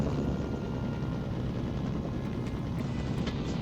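Helicopter rotor drone in a North Korea military video game, a steady, loud, continuous thrum filling the whole stretch with no gaps.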